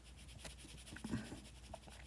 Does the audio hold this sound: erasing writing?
yes